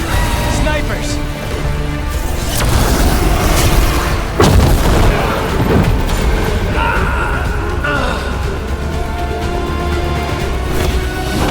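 Sniper gunfire in the Dragon Age: The Veilguard video game, heavy booming shots and impacts, one especially loud blast near the middle, set over a dense continuous battle din with music and voices.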